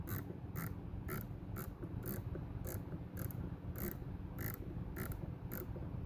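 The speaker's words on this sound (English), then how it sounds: "Let's give it another quick twist. 2 full turns on the 5 mil turrets." A 5-mil turret on an SWFA Classic 6x42 rifle scope is twisted through its detents, producing a crisp run of evenly spaced clicks, about a dozen in a steady rhythm over a quiet background.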